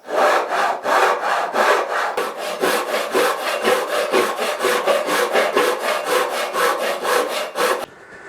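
A hand saw or rasp trims the end of a wooden part on a scratch-built guitar. Close, loud strokes go back and forth in a brisk, steady rhythm for about eight seconds, then stop.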